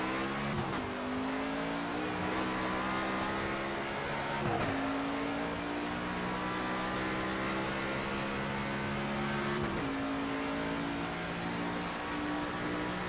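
A NASCAR 25 race car in the video game drives around Dover, its engine droning loud and steady throughout, with pitch sweeping upward through gear shifts and sharp drops near 0.7, 4.6 and 9.7 seconds; no voice.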